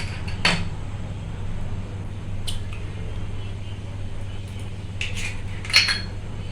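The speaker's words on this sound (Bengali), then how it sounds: "আর একটা ডিম ফাটিয়ে দিচ্ছি।" An egg is cracked into a bowl that also holds lemon juice, giving a few short, sharp taps and clinks of shell against the rim and a soft wet drop, over a steady low kitchen hum.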